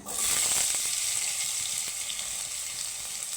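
Potatoes fry in hot oil for a Bengali dish with paneer and drumstick, a steady bright sizzle, close and fairly loud, with faint stirring clicks and no talking.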